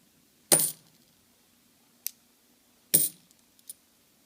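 Quarters from a coin roll clink and jingle in a quiet room. Two sharp metallic bursts arrive a couple of seconds apart, with a few lighter single taps between and after them.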